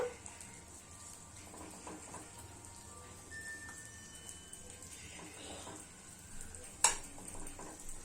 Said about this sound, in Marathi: आता आपण हे गुळ तुपामध्ये चांगलं एकजीव काढून घेऊया।